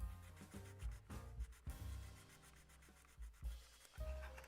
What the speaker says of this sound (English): let me hit this with some 600 grit real quick, and then some 2000